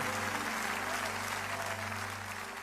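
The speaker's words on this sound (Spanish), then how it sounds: "Débele fuerte ese aplauso." A church congregation claps during a worship service, a soft, steady wash of many hands heard from a distance over a low sustained musical hum.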